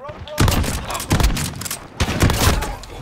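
The VLK Rogue shotgun from the video game Call of Duty Modern Warfare fires in heavy, punchy blasts, a couple of close booming shots a second or so apart amid busy game noise, with a voice talking over them.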